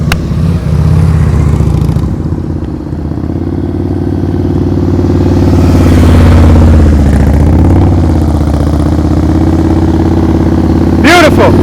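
Motorcycle engine held at low revs during slow-speed riding practice, a loud, close, steady rumble that swells slightly as the throttle opens, with a brief sharp squeal near the end.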